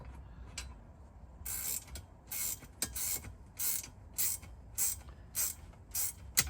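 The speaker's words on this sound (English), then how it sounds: "no, these are not ratchet Allens. They're ratchet wrenches." A ratchet wrench tightening a bolt while a rear Molle panel and shelf are fitted in a Landcruiser 250, giving repeated quick clicking bursts in a steady rhythm, close and fairly quiet, with no talking.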